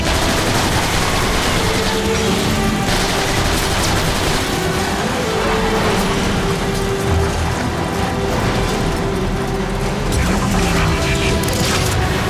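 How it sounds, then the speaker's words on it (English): A shotgun fires at Insecticons in a Transformers video game, with dense bursts of gunfire, mechanical clanks and booms layered continuously through a loud, busy game soundtrack. "Shotgun makes short work of these guys."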